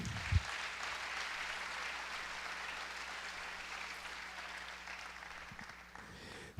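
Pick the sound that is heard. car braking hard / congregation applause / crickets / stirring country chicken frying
congregation applause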